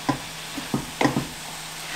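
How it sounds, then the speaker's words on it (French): Herbs and chili being stirred into a simmering sauce in a pan for chicken cacciatore, giving a few short scraping strokes over a faint background sizzle, close and fairly quiet with no talking. "Voilà, on ajoute nos herbes et le piment. On va déjà mélanger ça."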